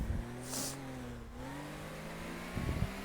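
A fast Subaru sports car drives in the Teardown video game, its engine holding a steady mid-pitched drone that dips briefly, with a short rough burst near the end.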